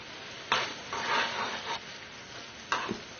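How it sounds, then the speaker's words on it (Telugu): Sugar syrup for milk Mysore pak bubbles in a pan while being stirred, with a few distinct scraping, rubbing bursts of moderate loudness separated by quieter simmering. "చూశారు కదా పాకం మరుగుతుంది"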